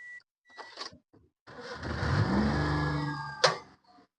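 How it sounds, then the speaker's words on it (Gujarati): A Maruti Suzuki Alto K10 petrol engine turns over and catches, then runs steadily for a couple of seconds close by before a sharp clunk and a brief drop-off. "ગાડી ચાલુ કરીને તમને એનો એન્જિનનો અવાજ મિત્રો સંભળાવું છું."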